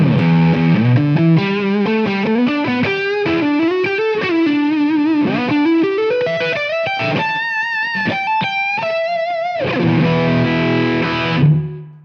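An overdriven electric guitar on the neck pickup, played through an amp capture, plays a busy melodic riff with bends and sustained notes, ending on a loud strummed chord, with no talking.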